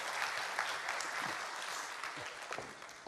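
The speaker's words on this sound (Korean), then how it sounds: "박수 부탁드립니다" Audience applause in a church worship service, a steady wash of clapping filling the room for about three seconds, fairly distant with no voices on top.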